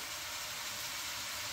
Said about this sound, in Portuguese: aonde eu estou fritando a cebola e o alho